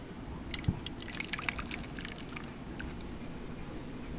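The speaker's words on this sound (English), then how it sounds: "you just pour this in" An egg and cheese mixture pours into a Pam-sprayed baking dish, giving a soft, steady liquid trickle with a few faint splashes close by, with no voices.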